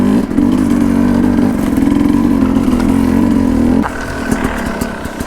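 An enduro motorcycle riding off-road on a winter trail, its engine chugging loudly and steadily up close at low throttle before the tone drops and settles into a quieter idle.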